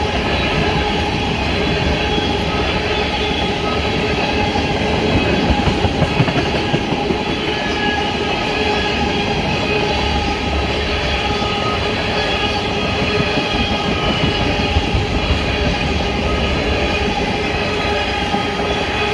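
A CSX ethanol freight train rolls steadily past in Maryland, loud and close, with continuous rumbling, clickety-clack of wheels on the rails and occasional squeals over about twenty seconds, no talk.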